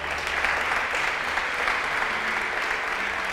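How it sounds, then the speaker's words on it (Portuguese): A church congregation applauds during a sermon, a steady wash of many hands clapping at an even level throughout, with no voices standing out. "Você pode aplaudir a Ele."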